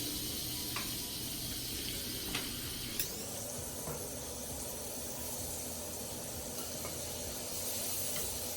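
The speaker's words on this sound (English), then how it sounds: "I'm going to start adding some beef so I can start browning it" Beef cubes browning in a hot pan give a steady, close sizzle and hiss throughout, with a brief clink partway through and no talking.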